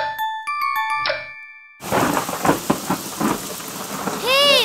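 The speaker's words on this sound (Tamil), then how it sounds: "ஹே மழை!" Rain pours steadily with a loud thunderclap rumbling in an animated cartoon, following a few bright chiming notes at the start, with a rising sparkly tone near the end.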